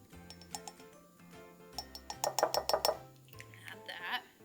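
A spoon scooping cocoa powder into a mug, with several light clinks and taps of metal against ceramic, including a quick cluster of rhythmic knocks, close and fairly quiet.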